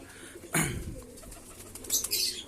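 A fancy pigeon coos in short soft bursts close by, from cage breeding, with a brief flutter and some light background noise.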